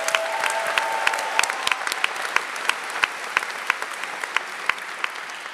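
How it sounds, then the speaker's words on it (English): Sustained applause from a large crowd at a University of Maryland School of Public Policy commencement, dense steady clapping with sharp individual claps standing out close by. "Can we get another round of applause one more time for public policy grads?"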